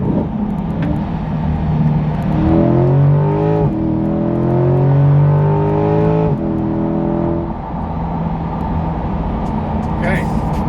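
C8 Corvette fitted with a Corsa Extreme aftermarket exhaust cruising at speed, its loud droning exhaust note rising and falling as the throttle changes, heard from inside the car alongside someone talking.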